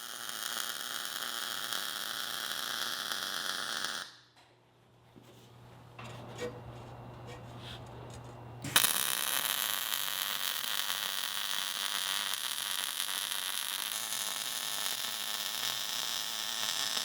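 Steel workbench frame being welded on a welding table: a steady, loud hissing crackle fills the stretch, breaking off for a few seconds of quieter hum and clatter before the harsh sizzle resumes and continues.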